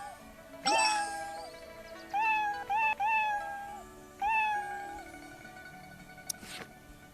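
A cat meowing several times indoors, a sharp cry followed by a few drawn-out, repeated meows at close range, loud and clear with quiet gaps between.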